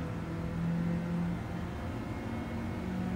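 Citroen DS3 race car on a circuit, its engine droning steadily under throttle with a sustained hum and a slight rise in pitch, heard from onboard at moderate level.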